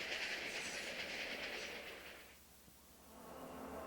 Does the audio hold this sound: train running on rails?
yes